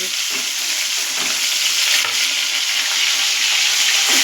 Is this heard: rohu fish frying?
yes